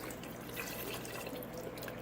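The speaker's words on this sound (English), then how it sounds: "I put some water in the jar." Water is poured into a jar that still holds leftover Alfredo sauce, a short, close trickle with dripping splashes and no talking.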